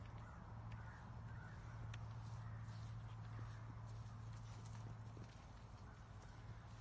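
Horse hooves clip-clopping on the ground near a portable electric corral, a faint, irregular run of soft hoof strikes under quiet outdoor ambience.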